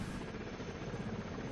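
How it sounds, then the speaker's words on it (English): Continuous rumbling drone of a helicopter in the game Delta Force, steady and fairly loud, with no other sounds. "I hope this isn't a helicopter I can hear."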